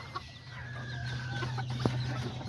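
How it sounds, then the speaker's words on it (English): A backyard hen clucks a few times in short, close calls over a low steady background hum, with no one speaking. "But this little chicken, she just likes coming in here."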